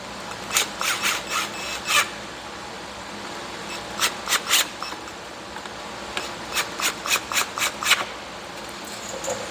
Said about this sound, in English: So I'm just gonna throw these screws in, screw it down, make sure everything fits.